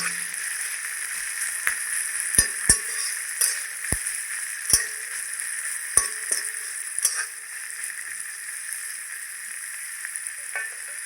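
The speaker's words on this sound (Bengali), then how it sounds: "তেলের মধ্যে পেঁয়াজ দিয়েছি ভেজে নিচ্ছি" Chopped onions sizzle steadily in hot oil, frying ahead of a crisp flattened-rice (chire) dish, with a few sharp clinks and taps of a spatula against the pan.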